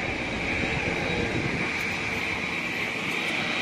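Jet airliner taking off at Mumbai airport, caught from the Jari Mari hill viewpoint in Kurla, a loud, steady engine roar with a hissing high edge that holds evenly throughout, no speech over it.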